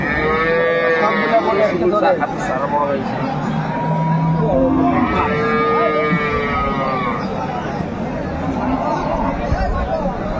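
Several cows moo loudly and repeatedly, their long lowing calls overlapping amid a busy cattle market crowd with people talking in the background, at Aftabganj market, Dinajpur.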